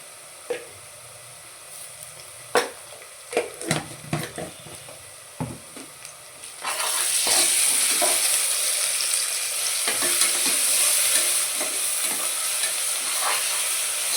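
Ginger garlic paste being stirred into browned onions for a mutton curry: a few spoon clacks and scrapes, then a sudden loud burst of steady sizzling that stays strong under continued stirring.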